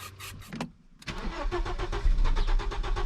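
An Audi engine cranks with a short rapid starter whir, pauses, then catches and fires into a rough, rumbling run that grows louder toward the end, heard close up.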